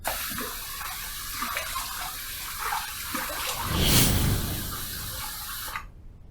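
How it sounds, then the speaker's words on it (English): Tap water runs steadily while a face is rinsed after a razor shave at a bathroom sink, with a louder splashing surge midway before the flow cuts off abruptly near the end. "Let's rinse."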